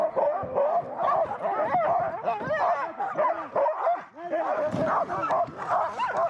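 Finnish huskies bark, yip and whine excitedly while being harnessed and hitched to sleds before a tour across a frozen lake, a close, overlapping chorus of several dogs, with occasional voices underneath.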